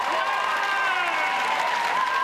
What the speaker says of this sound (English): this crowd has come alight with that